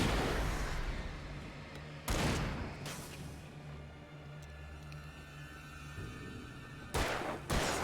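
Flashbang grenade going off in the Alan Wake video game, several sharp loud bursts with ringing tones and booms between them, no talk.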